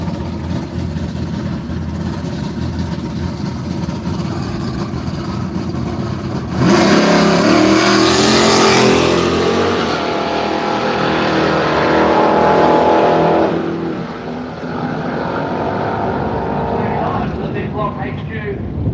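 A big-block drag racing car at Willowbank Raceway in Australia roars loudly and swells to a peak midway before fading, with a track announcer talking over the engine noise throughout.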